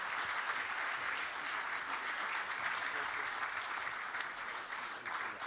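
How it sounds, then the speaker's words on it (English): Audience applause for panel speakers at a sports officiating foundation event, steady continuous clapping from a crowd at moderate distance, fairly quiet overall. "One more time, a round of applause for Stephanie White, Jack Doyle."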